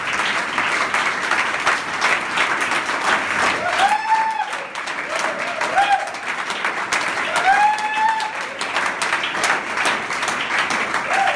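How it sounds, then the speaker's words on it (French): Congregation clapping in a church thanksgiving service, dense sustained applause filling the room, with voices and scattered cheers mixed in throughout. "acclamons le Seigneur comme des actions de grâce"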